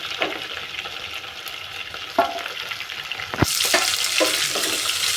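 Garlic, ginger and green chillies sauté in a hot pan for a mussel pickle, with a steady close sizzle and a few sharp stirring scrapes, the frying hiss growing brighter and louder partway through.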